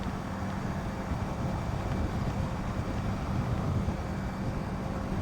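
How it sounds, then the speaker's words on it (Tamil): Wind blows steadily in a low, even rush while riding a Yamaha MT-15 motorcycle in Chennai, with no voices, just continuous broadband noise. "சில்லுன்னு காற்றடிக்குதுங்க நல்லா."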